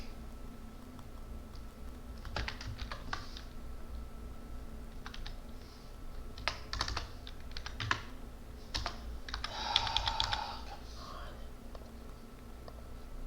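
Typing on a computer keyboard while coding in Visual Studio Code, scattered quick clusters of soft key clicks in irregular bursts, fairly quiet, with low murmured speech in between.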